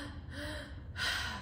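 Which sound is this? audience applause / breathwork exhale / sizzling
breathwork exhale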